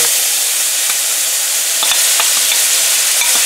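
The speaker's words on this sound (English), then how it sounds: "So now we're gonna put the curry paste in the oil there." Curry paste hits hot oil for a Guyanese catahar curry with coconut milk, giving a loud, steady, close sizzle with a few sharp scrapes of stirring scattered through it.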